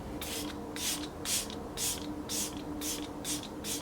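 Milk Makeup setting spray hisses onto a face in about eight quick, evenly spaced bursts, close and fairly loud, each a short airy spritz over a faint background hum.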